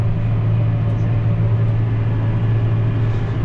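A Massey Ferguson 5S.135 tractor's engine and transmission run at a steady, loud, low drone that holds unchanged throughout, with no voices over it.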